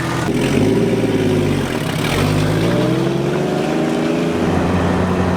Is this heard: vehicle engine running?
yes